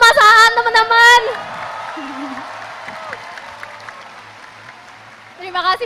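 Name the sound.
applause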